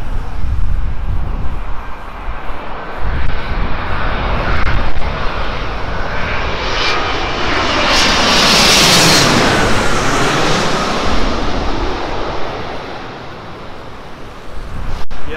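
Airplane on landing approach near a London airport, its engine roar swelling loud overhead as it passes close, then fading away, with steady wind or traffic noise underneath and no speech.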